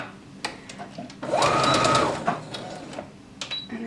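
A sewing machine stitches the waist seam of an heirloom dress, a steady whirring run of about a second between brief starts and stops, close and clear with no talking.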